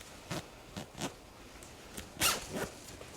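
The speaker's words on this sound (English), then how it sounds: "a zipper." A dress zipper is pulled open and closed in several short, soft rasping strokes, close up and quiet, with one longer, brighter pull in the middle.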